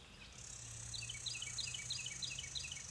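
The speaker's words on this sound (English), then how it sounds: "Hope you guys hear the birds singing to me." Birds chirping at sunrise outdoors, a faint, thin repeated twittering phrase over a soft steady background hiss.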